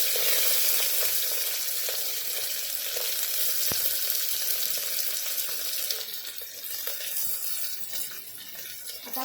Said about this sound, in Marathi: आपण कांदा पण चांगला भाजून घेणार आहोत फास्ट गॅसवरच मी कांदा भाजून घेते